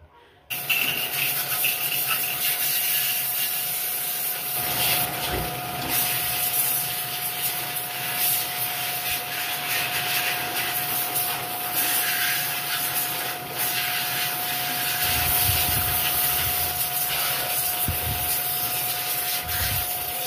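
A steady, loud hiss of a pressure washer spraying water against a Yamaha R3 motorcycle, continuous and close, with a faint tonal whine from the machine underneath.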